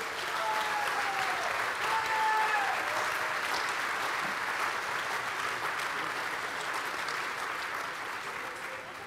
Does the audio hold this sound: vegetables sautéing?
no